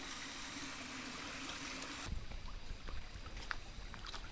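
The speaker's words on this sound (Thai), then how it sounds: "น้ำไหลนี่" Forest stream water rushes steadily with a broad hiss, then the flow drops away and small splashes and trickles continue nearby, faint and alone.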